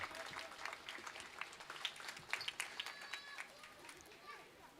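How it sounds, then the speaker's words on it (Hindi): Faint, distant applause from an audience at a religious fundraising dedication ceremony, a steady patter of claps lasting a few seconds with some murmuring underneath. "जोरदार तालियों से स्वागत"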